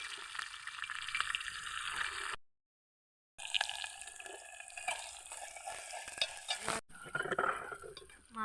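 Onions tipped into hot oil with mustard seeds for a home-style egg curry, sizzling and hissing steadily with stirring noises, broken by a short silence and a brief cut before the frying resumes.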